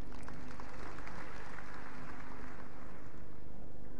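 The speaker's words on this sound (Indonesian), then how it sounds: "Beri tepuk tangan buat mereka." Congregation in a church clapping for a choir on its 27th anniversary: dense, steady applause from many hands that continues for the full stretch, with no gaps.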